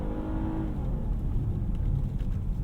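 A 2022 Nissan Pathfinder pulling hard at wide-open throttle in second gear on a mountain road, its engine note droning and rising steadily from inside the cabin.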